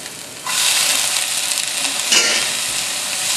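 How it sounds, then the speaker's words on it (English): Chicken and broccoli stir fry sauteed in a hot wok gives a sudden loud hiss and sizzle that holds steady, with a brief scraping stir partway through and no voices. "Just kind of like saute the broccoli a little bit."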